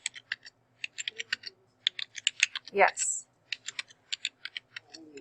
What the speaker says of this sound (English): Good typing